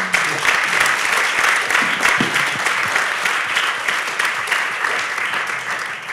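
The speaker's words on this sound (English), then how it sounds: "applause" A panel audience at a film industry event on gender equality applauds steadily, dense even clapping that holds at full strength across the whole stretch with no voices over it.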